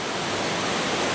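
Rushing water at Lata Kinjang waterfall, a dense, steady roar heard close and loud without pause or talk.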